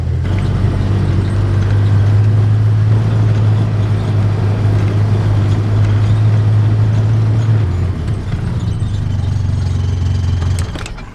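A vehicle engine runs loud and close while being driven to a well house, with a steady low drone that holds and then shifts lower before fading near the end, with no talk.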